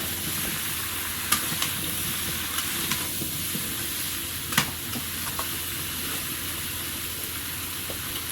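Pumpkin stir-fried with salt and green chilli sizzles steadily in the pan, with a bright continuous hiss and occasional sharp clinks of a stirring spoon.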